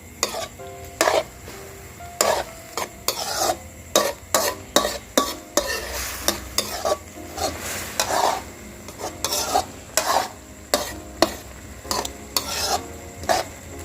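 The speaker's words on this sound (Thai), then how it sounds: "คลุกเข้าให้ส่วนผสมเข้ากันเลยครับ" Stir-fried holy basil with snakehead fish belly, dried chilies and pepper is tossed and mixed in a pan: rapid scraping strokes of a utensil over a soft sizzle, with irregular bursts of clatter, close up.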